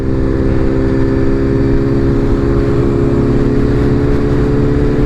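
A motorcycle engine runs steadily and loudly up close, with a dense low rumble and constant droning tone and no break in the sound.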